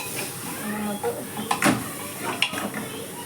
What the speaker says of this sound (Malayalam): ഇനി നമുക്കിതൊന്ന് ഇളക്കി